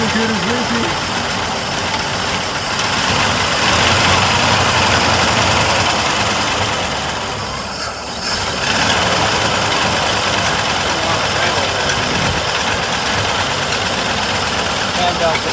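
A 1932 Ford Tudor with its early flathead V8 idles steadily at a car show, a loud continuous rumble with a rattly, knocking edge as the oil pressure builds, a brief dip near the middle and faint voices around it.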